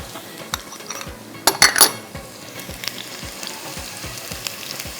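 Whole spices, star anise flowers, black peppercorns and cumin seeds, fry in hot oil in a pan, with a steady close sizzle, soft clinks and scrapes of stirring, and a brief louder crackling burst partway through.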